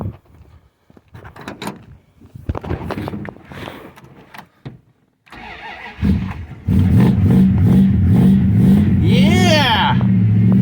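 Old Mopar convertible engine cranking, then catching and settling into a loud, steady idle with a rev near the end, close by, preceded by clunks and rattles, with people talking.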